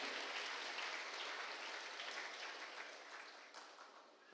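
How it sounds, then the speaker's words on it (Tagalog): A church congregation applauding during a prayer service: a soft, diffuse wash of many hands clapping, heard from a distance and slowly fading toward the end. "So palakpakan natin ho ang Panginoon."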